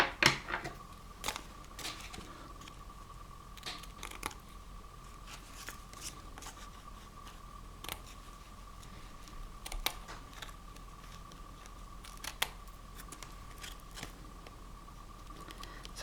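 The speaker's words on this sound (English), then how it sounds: "Now I'll just trim the edges on that." Scissors trim the edges of a sheet of wallpaper, giving soft, scattered snips and paper rustles. The cuts are close but quiet, come at an irregular pace and sound over a faint steady hum, with no talk.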